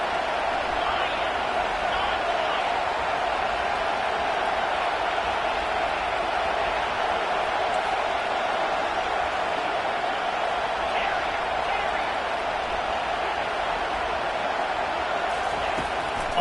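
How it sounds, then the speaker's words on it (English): A stadium crowd in a Madden football video game roars in a steady, dense wall of cheering that holds level throughout, loud and continuous with no breaks. "Listen to this crowd just shaking the girders of this place"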